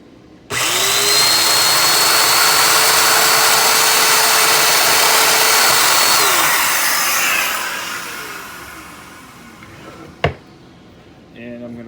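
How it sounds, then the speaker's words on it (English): Festool domino joiner cutting mortises in wood for a cooktop cover, a loud close high-pitched motor whine held for several seconds that winds down, followed by a sharp knock and faint handling. "I'm going to make my mortises with my Festool domino joiner"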